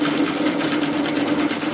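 A sewing machine runs steadily for a couple of seconds with a close, even mechanical hum and fast stitching chatter, sewing a seam, with no one talking.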